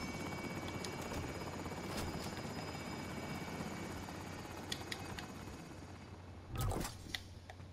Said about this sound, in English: Helicopters exiting the AO.